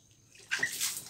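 Water is scooped and poured over a young child being bathed, one brief close splash and trickle rising out of quiet.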